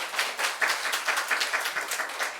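A church congregation at a Seoul morning service claps together, producing a brief, faint, steady patter of many hands at a distance with no voices over it.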